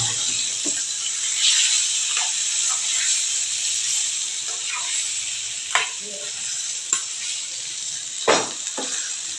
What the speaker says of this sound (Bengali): পনিরগুলোকে ফ্রাই করে নিতে হবে পনিরগুলো ফ্রাই লাইট ফ্রাই করবার অবধি আমাকে ভেজে নিতে হবে প্যানে ভালোভাবে